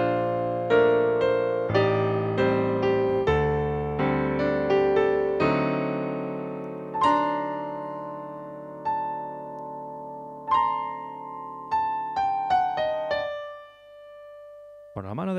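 A slow piano melody from Howl's Moving Castle with sustained chords underneath, notes struck one at a time and ringing out, ending on a higher held note.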